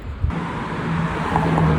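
A car drives past on a sunny street in Germany, its road noise swelling steadily as it approaches, with a low engine hum and broad tire hiss and no talking.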